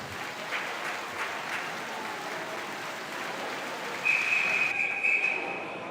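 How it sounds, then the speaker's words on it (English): Audience applause at a youth swim meet after a heat finishes, steady crowd clapping in a reverberant natatorium, joined near the end by a sharp whistle tone. "Clapping."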